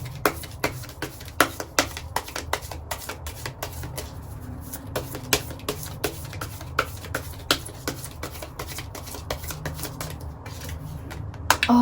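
Tarot cards shuffled and drawn in a steady run of crisp riffles and soft slaps, close and fairly quiet with no talking.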